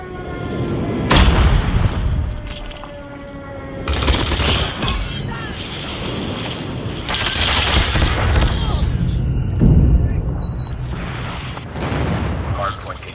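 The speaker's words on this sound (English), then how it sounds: "Enemy airstrike incoming." Explosions and gunfire in a Call of Duty Mobile hardpoint match during an enemy airstrike, with heavy booms and rattling shots rising and falling while a voice talks over the action.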